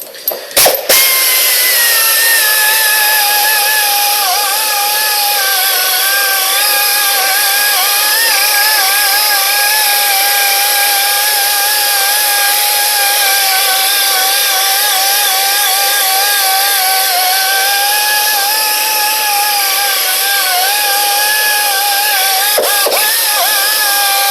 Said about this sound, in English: It's quite important to keep the polisher moving.